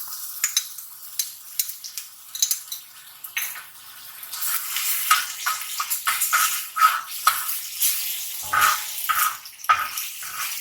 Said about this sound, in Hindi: यहाँ मैंने तवे में लिया है 2 टेबल स्पून ऑयल, उसके अंदर हम डालेंगे हमारा लहसुन अदरक का पेस्ट